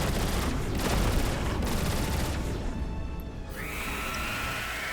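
Dense, rapid weapon fire crackles continuously while projectiles are shot down in the Transformers War for Cybertron game, a loud, busy barrage with explosive bursts and a rising whine near the end.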